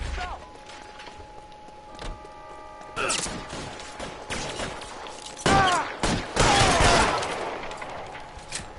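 Gunfire in the 1940s detective game LA Noire: a few sharp close shots and bursts break out over a quiet ambient background, growing denser and louder toward the end, with a voice speaking briefly over it.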